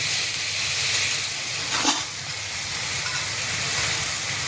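Ground spices hitting hot oil in a pan for anda bhurji, a steady close sizzle with a brief louder hiss and stir in the middle, no voices.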